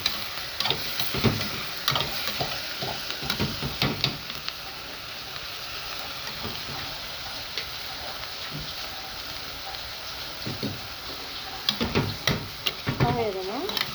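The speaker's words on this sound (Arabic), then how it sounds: "افضل اقلب فيه طبعا لحد ما الفلفل ده ما يستوي كده ويدبل" Liver and peppers frying in a pan while being stirred, a continuous low sizzle with clusters of sharp clattering scrapes from the spatula near the start and end, with a voice speaking at times.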